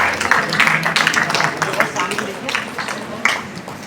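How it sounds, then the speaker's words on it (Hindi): Applause breaks out at an International Nurses Day award ceremony honouring nursing officers, uneven clapping from a seated audience heard together with a speaker's voice through most of the short stretch. "महेंद्र सिंह जी के लिए तालियों की गड़गड़ाहट होनी चाहिए।"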